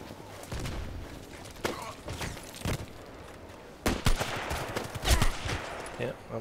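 Bursts of gunfire in a shooting video game, with clustered shots and a loud volley near the end over a busy background of game effects.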